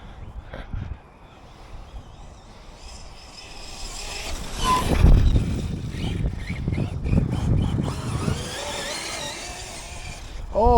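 A small RC car powered by a Turnigy Bolt high-voltage LiPo battery runs at full throttle, pulling wheelies. Its whine builds, then stays steady and fairly loud, with brief rising tones near the end.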